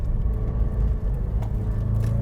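A Subaru WRX on the street, its engine rumbling steadily and close through a tight 90-degree turn, with a brief dip in the drone as gears are shifted; no talking.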